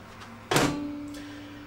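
A microwave door shuts with a single solid thunk, the ready meal inside, in a VW campervan running off a 12V leisure battery, followed by a faint fading hum in a quiet space.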